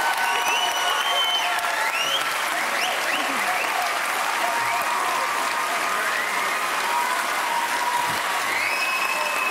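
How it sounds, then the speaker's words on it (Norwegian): An audience applauds at the Stjernekamp televised singing competition, a dense, steady wash of clapping that carries on unbroken for about ten seconds, loud and close, with occasional faint voices blended in. "vi klapper en av scenen"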